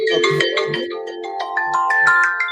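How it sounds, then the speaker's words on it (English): A phone rings with a melodic electronic ringtone, a quick rising run of bright, plucked-sounding notes over a low tone, loud and close with no talk. "Whose phone's ringing?"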